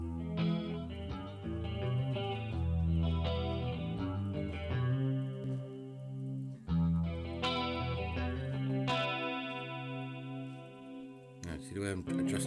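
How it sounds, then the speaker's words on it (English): Electric guitar played through a Line 6 Pod 2.0 modelling amp, sustained chords and notes swelling through reverb that shifts from plate to room to hall, with a tremolo-like shimmer, continuous and loud. "That's how you get from plate reverb into a room into a hall."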